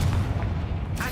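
A Confringo blasting spell bursts in Hogwarts Legacy, a single loud, booming explosion that rumbles briefly within the game's ambient sound.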